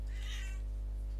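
Inside a horror game, a cat gives a single short meow, moderately close, over a loud steady low hum.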